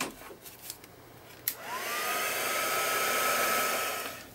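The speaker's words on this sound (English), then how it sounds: "Grab the heat gun." A heat gun drying an art journal page switches on with a click and a rising whine, then blows in a steady airy roar up close, with faint rustling just before.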